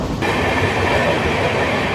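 LHB-coached Ratnachal Express between Nuzvid and Eluru, running at around 110 km/h with a steady, loud rolling roar and rail rumble, no voices.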